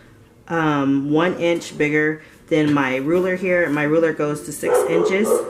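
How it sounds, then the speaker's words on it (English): Dog barks and yips come in short bursts beneath steady close-up talking, with a louder cluster of barking near the end. "sorry about the barking."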